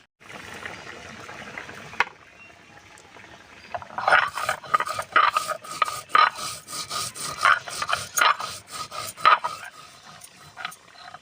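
Dry-roasted cumin seeds are ground into a paste on a grinding stone in a village kitchen, a rhythmic wet rasping and rubbing that repeats in strokes, close and fairly loud, with no one speaking.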